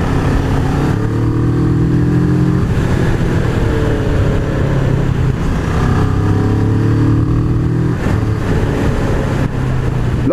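A Kawasaki ER-6n motorcycle engine with its stock exhaust runs loud and close, its pitch rising and falling repeatedly as the revs climb and drop.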